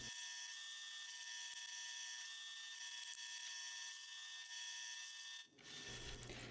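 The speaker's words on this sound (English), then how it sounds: "After I drill the pinholes, I'll also be drilling some holes to reduce the weight in the handle." A Wen drill press drills pinholes into a knife handle, giving a steady, close high-pitched whine that holds for several seconds before it cuts off and the motor winds down.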